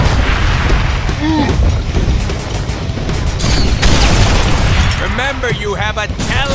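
Rocket attack explosions rumble and crash almost without a break in the Deadpool video game, a dense, loud barrage of booms and gunfire with voices shouting over the chaos.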